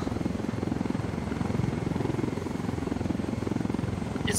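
A video game helicopter with a steady, rapid rotor thump that stays constant and fairly close throughout, no speech.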